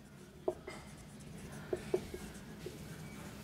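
A pen writes on paper while a geometry solution is worked out, giving a few soft scratchy strokes close to the mic over a steady background hiss.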